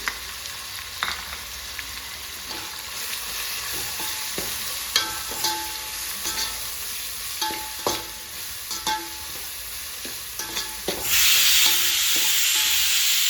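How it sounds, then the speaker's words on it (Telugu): Tomatoes with salt and turmeric fry in oil in a pan, sizzling steadily while a spoon scrapes and stirs at irregular intervals, and the hiss swells louder near the end. "టమాటాలు మెత్తగా కావాలి కాబట్టి కొద్దిసేపు మంచిగా వేయించాలి"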